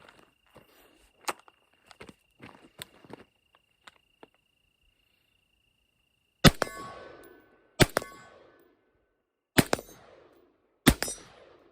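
Rifle shots from a 14.5-inch pinned-and-welded rifle fitted with an Eotech magnifier ring out as four loud, well-spaced cracks, each followed by a ringing clang off steel targets, after a stretch of faint clicks and handling noises, no talk.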